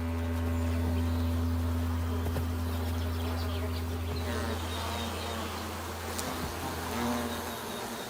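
A hive of honeybees buzzing continuously, dense and steady throughout, with a low drone and many overlapping wingbeats close by in a forest setting.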